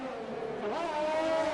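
A race car from the Canadian GP rookie championship sweeps past with a rising engine whine and a pitch shift as it crosses the line, loud and close for a brief moment.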